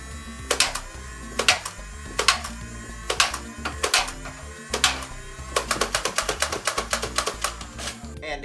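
A Big Power Electric Model 531 foam dart blaster firing hard tip darts in rapid bursts, each shot a sharp motorized whir and thump, repeating quickly and growing faster toward the end.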